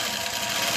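A sewing machine stitches thread at a steady speed, giving a close, continuous mechanical whir with no pauses and no voices.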